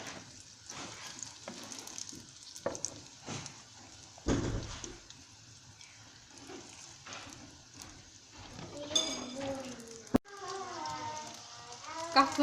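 Qatlama dough sizzling as it fries in oil, a steady crackling bed with clattering bursts and some background noise.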